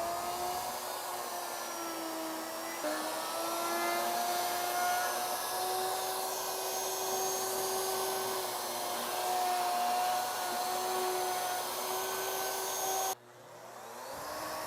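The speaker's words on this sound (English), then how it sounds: "Now we're ready to route." A handheld router cuts a recess with a dish carving bit, guided by a template. It makes a steady, loud whine that holds for about thirteen seconds with a slight change in pitch midway, then cuts off abruptly near the end.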